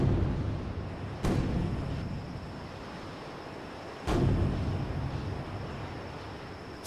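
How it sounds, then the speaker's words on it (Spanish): Cannon shots fired as an audiobook sound effect for a captured ship in Robinson Crusoe: two heavy, distant booms a few seconds apart, each rolling out over a steady windy, sea-like ambience with no talking. "¡Son 3 cañonazos!"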